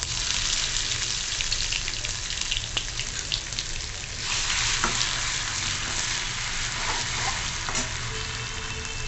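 Mustard seeds, cumin, crushed garlic, green chilli and ginger crackle and sizzle in hot oil for a Marathi dal and brinjal curry, a dense steady frying hiss with scattered sharp pops throughout, close and fairly loud, with no talking.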